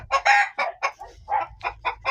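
A chicken clucks in a quick series of close, sharp calls, about nine bursts in a rapid uneven rhythm.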